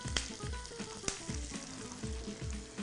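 Chopped onions frying in a pan until golden brown, a quiet close sizzle with a rhythmic series of spatula stirs and scrapes, no talking.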